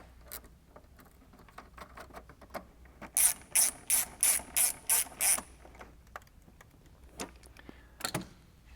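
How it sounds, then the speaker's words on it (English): A ratchet tightens the negative battery terminals on a 6.1 liter third-gen HEMI, giving six quick, even bursts of clicking in the middle, with lighter taps and handling noises before and after. "Last thing we need to do is reconnect our negative battery terminals."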